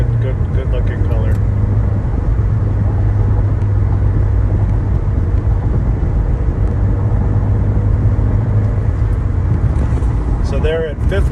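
A 2009 Subaru Impreza wagon with a five-speed manual cruising in fifth gear at about 53 mph and 2,200 rpm, a steady loud drone of engine hum and road rumble heard from inside the cabin throughout.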